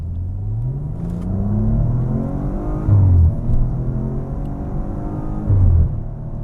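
A 2014 Maserati Quattroporte accelerates hard on a test drive, its engine rising and falling in pitch through gear changes, heard loud and steady from inside the car with a deep rumble underneath.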